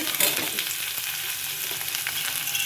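Chopped onions, small ones mixed in, frying in a pan, a loud continuous close sizzle with bursts of stirring scrapes over it, no talking.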